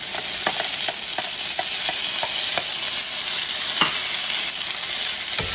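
Onions and green peppers sizzle steadily in a hot pan for breakfast potatoes, with a utensil scraping and stirring them in repeated short strokes close by.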